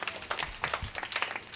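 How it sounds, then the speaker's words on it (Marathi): An audience at a kirtan gathering claps loudly for Ravi Dada, with a dense burst of hand claps continuing throughout. "रविदादांसाठी जोरात टाळी वाजवा"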